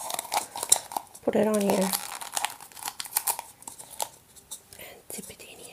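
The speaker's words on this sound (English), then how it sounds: "So let's just crumple this," Material crumples and crinkles in short, close, dry bursts to make a prop for an acrylic pour on wood, with a quiet voice speaking briefly among the rustling.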